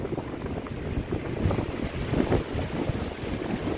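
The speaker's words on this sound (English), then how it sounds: "Let's listen to the wind, how strong it is." Strong wind blowing across a tropical trail, roaring and buffeting the microphone in a continuous gusty rush with no voices.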